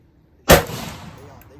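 One loud, close gunshot at a shooting range cracks sharply and then rings out in a short reverberant decay, alone with no talk.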